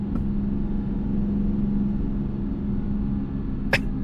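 Peterbilt truck engine in American Truck Simulator, a steady low diesel rumble with a faint tonal drone, running continuously and close, with a brief click near the end.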